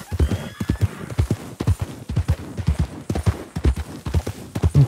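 Rhythmic hoofbeats of a horse galloping in a video game, a steady clip-clop pattern that stays close and loud throughout, with a faint whinny mixed in and no talking.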